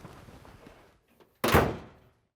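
A 1950s Edsel car door shuts with one loud, solid thunk that fades quickly, following quieter handling sounds.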